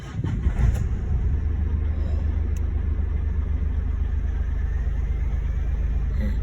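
A car engine, freshly fitted with a turbo, idles steadily with a loud, close, deep rumble and a brief rev near the start, with no talking.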